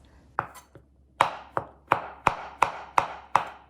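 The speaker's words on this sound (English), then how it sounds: "Discard the stems and slice them into small pieces." Shiitake mushrooms sliced into small pieces with a knife on a cutting board, a series of about nine crisp, close chops, sparse at first and then falling into a steady rhythm, with no voices.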